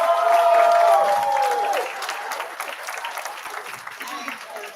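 A school board meeting audience claps for a sixth grade teacher from Sunset School, a moderate patter of hands that follows a brief tonal sound at the start and gradually thins out, with voices mixed in.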